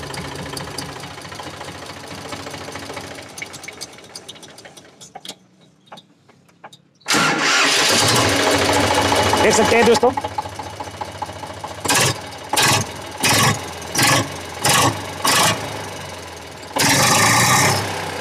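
An Eicher 485 diesel tractor engine cranks and fires, settling into a loud, steady idle, then a run of short revving bursts follows before it idles again; someone speaks briefly early on.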